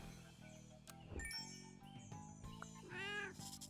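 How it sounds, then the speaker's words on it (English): A cartoonish cat meow from the pet-battling video game Super Auto Pets, a short bright sound over quiet looping game music and chimes. "That's a good meow."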